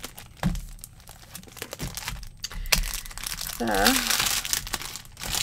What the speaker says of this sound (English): I do apologize for the crinkling.